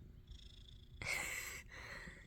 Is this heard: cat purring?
yes